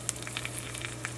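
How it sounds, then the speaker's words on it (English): Chicken sears in a frying pan with a steady, close sizzle and occasional crackling pops throughout, no talking. "Hear that? That's the sound of a good sear."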